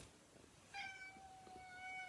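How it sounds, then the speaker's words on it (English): A female cat meows indoors, a short high call followed by a longer drawn-out one, fairly faint and alone over quiet room background. "my cat's telling me off because I told her off for scratching something"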